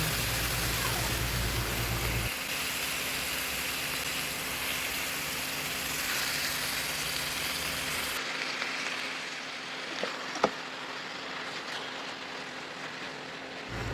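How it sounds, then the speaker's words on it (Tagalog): Chicken sautéing with tomato, onion and garlic for afritada, a steady broad sizzle with a low rumbling layer that drops away partway, then quieter frying with a couple of small clinks near the end. "igigisa lang natin yan mabuti dyan sa ating kamatis, sibuyas at bawang"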